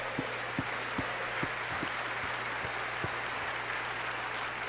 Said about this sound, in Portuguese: Você gostaria de dar um aplauso ao Senhor?